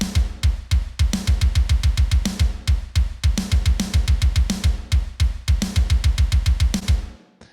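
Soloed metal drums from a song mix, with one-shot samples layered onto the shells. Rapid punchy double-kick patterns run under sharp, regular snare and tom hits, loud and dense throughout.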